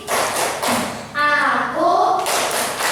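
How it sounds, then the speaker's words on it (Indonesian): A classroom of students performing a rhythmic concentration clap, sharp group claps in short patterned bursts broken up by children's chanting voices in the middle. "Tepuk konsentrasi"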